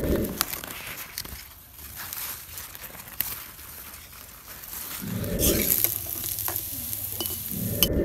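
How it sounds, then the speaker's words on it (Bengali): Rice-flour-battered sweet gourd flower fritters fry in hot oil with a steady close sizzle, swelling louder in bursts near the start and end, with occasional light crackles and handling sounds. "মিষ্টি নাইয়ের ফুল দিয়ে বড়া ভাজবো"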